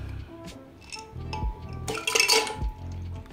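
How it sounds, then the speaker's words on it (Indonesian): Ice cubes dropped into a glass holding milk, a few sharp clinks and knocks landing in quick succession, close and fairly loud, with no talking. "Bahan kedua ya guys, es batu."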